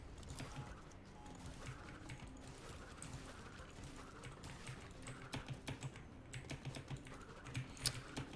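Computer keyboard keys pressed during PC play of Crash Bandicoot 4, a steady run of soft clicking taps with a few sharper presses near the end, under continuous game background sound.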